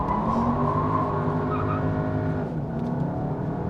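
A 2020 Volkswagen Passat with the 2.0 TSI engine and DSG transmission launches under launch control at full throttle, its engine roaring loud and close with steady harmonic revs that climb and hold, with no talk.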